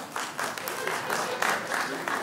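Stand-up comedy audience breaks into a short burst of applause, a steady wash of clapping from the crowd lasting the whole moment.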